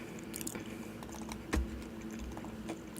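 Quiet, close-up chewing with soft crunchy clicks and one louder bite partway through, no talking.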